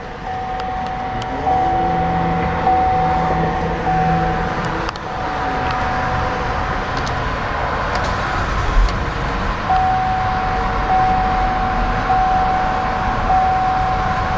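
A 2012 GMC Acadia Denali idles smoothly just after start-up, a steady low engine hum heard from inside the cabin with faint electronic chimes and tones over it, no talking.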